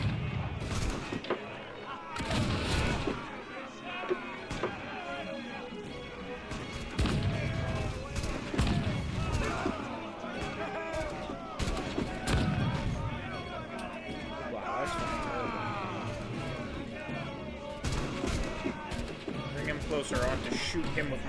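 Ship cannon broadsides in the naval combat of Assassin's Creed Freedom Cry, booming shots and crashes over continuous battle noise, with a voice shouting orders throughout.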